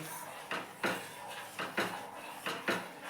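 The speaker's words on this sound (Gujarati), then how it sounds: "એ અંદર આપણે એડ કરી લઈએ ને એને કન્ટિન્યુ આવી રીતે આમ હલાવતા રહીએ આપણે" A metal spoon clinks and scrapes against a pot while a jelly mixture is stirred, several distinct knocks in an uneven rhythm, close and fairly quiet with no talking.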